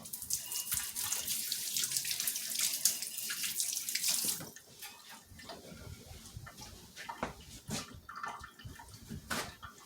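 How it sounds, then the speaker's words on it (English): A kitchen tap runs steadily into a sink as fingers are rinsed of slippery egg white, a bright close splashing for a few seconds before the flow is shut off, leaving faint drips and small clatters. "I have to go wash the egg whites off my fingers because my fingers are slippery."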